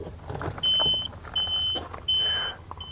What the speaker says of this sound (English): is it starts making this beeping. I guess this is my particular battery saver unit.